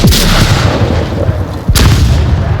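Grenade explosion in a competitive video game match, two heavy booming blasts with dense rumbling noise between them, loud and close.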